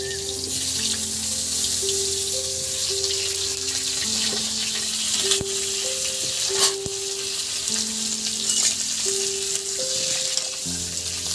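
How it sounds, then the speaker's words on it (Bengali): Cut potatoes sizzle steadily in a small amount of hot oil, a continuous close frying hiss with a few sharp clicks from a utensil and a faint tonal hum in the background. "এবার এই তেলের মধ্যে কেটে রাখা আলুগুলো দিয়ে দিচ্ছি বন্ধুরা"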